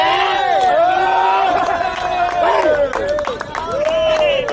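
A cheering squad at a sepak takraw semifinal match, a loud, close crowd of voices chanting, yelling and whistling continuously with rising and falling shouts, clapping mixed in.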